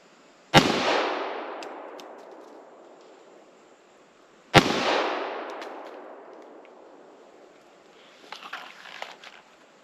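A Colt Combat Elite pistol loaded with 230 grain hardball fires two sharp, loud shots at a tree about four yards away, each crack followed by a long echoing decay, then faint rustling.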